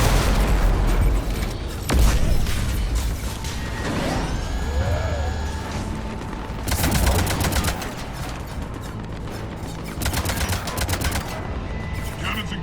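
Heavy cannon fire from the Mass Effect 3 game on the Omega mission, loud booming bursts and rattling volleys in repeated clusters over a dense battle din with sweeping electronic tones.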